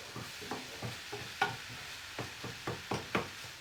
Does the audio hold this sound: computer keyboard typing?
no